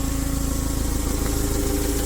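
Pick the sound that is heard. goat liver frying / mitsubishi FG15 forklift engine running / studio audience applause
mitsubishi FG15 forklift engine running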